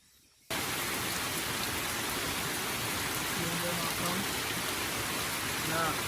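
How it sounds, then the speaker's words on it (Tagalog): Steady, dense rainfall hisses loudly and evenly after a quiet opening moment, with faint indistinct voices beneath the downpour. "Nabutan na kami dito ng ulan."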